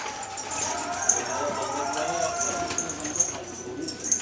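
Pigeons cooing while being fed outdoors, soft murmuring coos close by over a steady background hum, with people talking faintly throughout.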